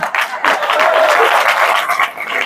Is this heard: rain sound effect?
no